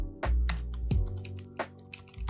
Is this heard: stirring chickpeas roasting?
no